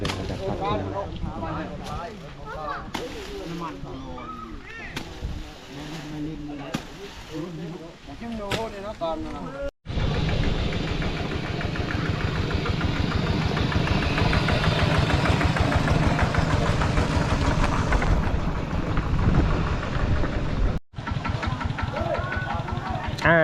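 Two tractors' engines rumble steadily and loudly close by, a continuous low mechanical drone with brief talk early on before the engine noise dominates.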